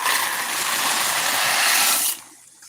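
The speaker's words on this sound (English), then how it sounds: "So I'm gonna put my elbow noodles in." Dry elbow noodles pour into a pot of water on a home stove while cooking a New Year dinner, giving a steady rushing, splashing hiss that holds for about two seconds and then stops abruptly, leaving quiet.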